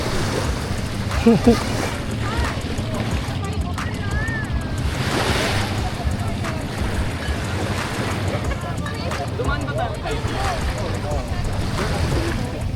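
Sea surf rolling in during a boat outing on open water, a steady roar of waves and wind buffeting the microphone for over ten seconds, with people talking intermittently over the rush.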